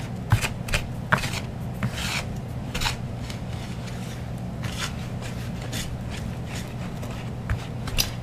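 Chocolate sheet cake batter being stirred by hand, a steady soft scraping and rubbing with irregular swishes of the spoon against the bowl, close and quiet with no talking.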